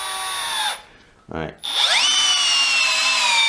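A 12V cordless drill driver, either a Makita DF032D or a Milwaukee M12CD, drives a 6x100mm screw into wood. The motor whines loudly and rises in pitch, pauses briefly, then spins up again, with one short spoken word in the gap.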